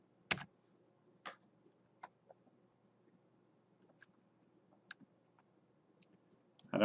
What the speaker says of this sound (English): So I'm going to click on the title and type in Turtle Experiment.